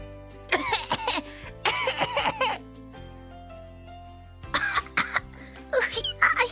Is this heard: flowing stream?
no